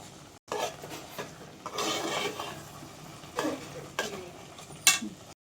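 Carrot halwa being stirred and fried in a pan, with a spoon scraping and rubbing against the metal in irregular strokes over a soft, steady sizzle, close and moderately quiet.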